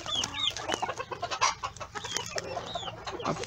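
Blue ornamental rooster and his hens clucking softly in their pen in late afternoon, a scatter of short overlapping clucks and calls at moderate distance with steady yard noise beneath.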